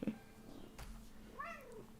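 A house cat lets out a quiet meow with a rising-then-falling tone after a short stretch of low background noise, sounding close but soft, with no talking.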